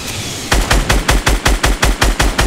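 Rapid bursts of automatic gunfire in Fortnite Battle Royale, about a dozen loud, evenly spaced shots in quick rhythm after a brief quiet lead-in.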